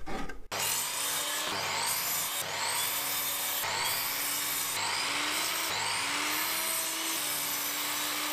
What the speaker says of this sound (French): il va falloir découper des traverses dans des tasseaux